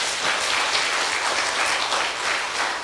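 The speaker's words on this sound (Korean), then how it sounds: "일단 저 한나를 위해서 박수 좀 한번 쳐줘봐" A church congregation claps for Hannah during a sermon: a full, continuous round of applause that swells slightly in places, heard alone without any talk.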